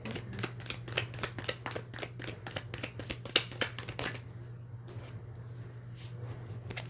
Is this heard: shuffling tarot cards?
yes